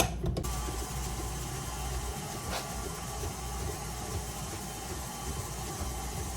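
An electric mixer beats butter and granulated sugar with a low, steady mechanical whir and faint rattling, running continuously at moderate volume with no talk.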